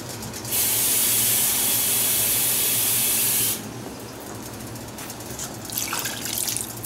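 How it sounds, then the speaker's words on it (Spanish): A cup of water is poured into a pot of lentils with smoked ribs, making a steady rushing splash of about three seconds before settling into a quieter background hiss. "Creo que le vamos a echar un poquito más, quizás una taza más de agua."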